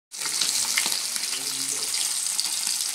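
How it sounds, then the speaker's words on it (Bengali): A spiced mixture sautéing in a pan before cabbage goes in, a loud, steady hissing sizzle that starts suddenly and carries on close up, with faint clinks underneath. "তো এবার এটাকে কষিয়ে নেবো আমি ভালো করে।"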